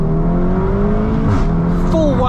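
A 400hp VW Golf R roars at full throttle, its engine note rising steadily and loudly with a gear change near the end, while a voice talks over it.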